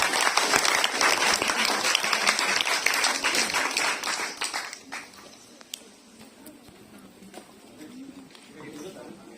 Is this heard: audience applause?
yes